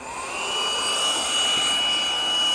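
A WindGallop portable air compressor running in deflate mode to empty a paddle board, a loud, steady motor whine with airy rushing and a faint high tone, holding close and constant throughout.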